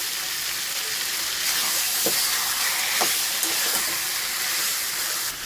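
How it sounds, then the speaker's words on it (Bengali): Chicken pieces sizzling in a pan with spices and salt for Purulia-style chicken kosha, a steady loud hiss of frying with a few soft stirring knocks, no voices. "এবারে আমি মাংসগুলো দিয়ে দিচ্ছি মশলাগুলো ভালো করে কষিয়ে দিচ্ছি"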